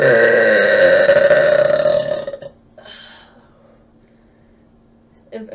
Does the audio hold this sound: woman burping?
yes